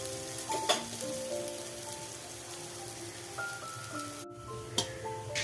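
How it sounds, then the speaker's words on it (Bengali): Bora fritters of gathi kochu taro and chana dal frying in hot oil, a steady close sizzle throughout with a few louder pops and no voices. "আমার বড়াগুলো সমস্ত ভাজা হয়ে গেছে।"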